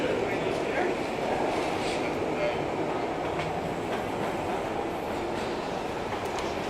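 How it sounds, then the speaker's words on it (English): A train rumbling along the tracks with a steady roar and faint rhythmic clatter, continuous and fairly loud, with muffled voices underneath. "His train just took off."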